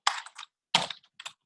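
Typing on a computer keyboard, with three short clustered bursts of close, crisp key clatter separated by brief pauses, no voices.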